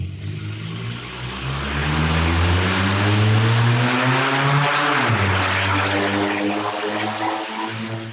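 Passing road traffic near a meditation spot swells into a loud engine hum that peaks and drops in pitch as a vehicle goes by, then fades slightly while continuing steadily.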